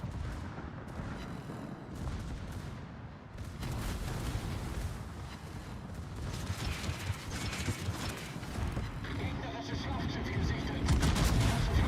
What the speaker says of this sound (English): Nice torpedo hits.